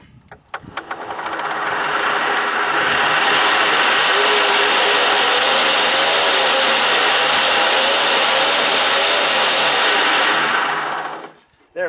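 A homemade hand-cranked generator built from four neodymium magnets and four coils spins up to a loud, steady mechanical whir with a high rattling hum, holding for about ten seconds before cutting off abruptly.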